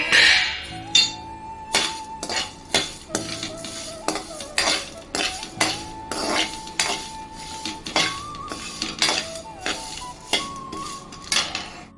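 Spices, peppercorns for a spicy chicken fry among them, are dry-fried in a kadai, with repeated sharp metallic clinks and scrapes of a spatula against the pan, fairly close and steady over twelve seconds, no talking.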